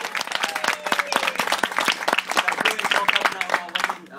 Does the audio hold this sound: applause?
yes